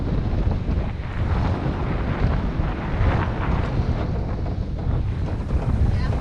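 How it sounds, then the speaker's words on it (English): Strong wind buffets a sailboat under way at sea, a steady, loud rush with microphone gusts and water wash beneath, continuous throughout. "we're just getting that wind coming around there now"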